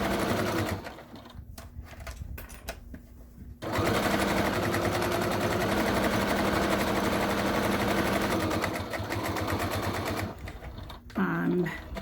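A sewing machine runs steadily and loudly up close while stitching over pockets and extra layers of an armchair caddy, with brief pauses and slowdowns, one near the start and another near the end.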